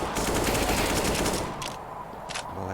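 Rapid automatic gunfire from the video game CS:GO rattles continuously for over a second, then breaks into a few shorter bursts, loud and close against game background noise.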